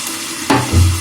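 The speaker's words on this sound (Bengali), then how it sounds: "আলুটা ভালো করে নাড়াচাড়া করে ঢাকা দিয়ে আমি 5 মিনিট রান্না করব।" Potatoes frying in oil in a pan on medium to low flame, a steady sizzle broken by a sudden scrape and clatter of stirring, loud and close, no talking.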